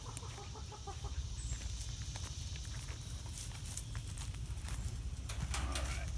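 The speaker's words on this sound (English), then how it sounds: "We've got some young hens that haven't quite figured out the chicken call yet." Young hens scurrying toward a feeder in a garden enclosure, a steady low rustle and patter of many small feet on the ground with faint clucks, close and continuous with no talk.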